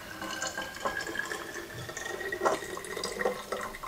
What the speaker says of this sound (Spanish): voy a empezar por poner este agua para que se vaya diluyendo